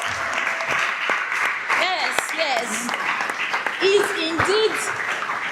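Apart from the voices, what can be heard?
audience applause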